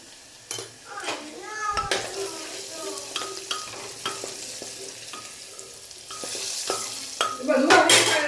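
Garlic paste and turmeric frying in a pan, heard as a continuous sizzle with repeated sharp taps and scrapes of a spoon against the pan, close and loud, growing busier toward the end, with faint voices in the background.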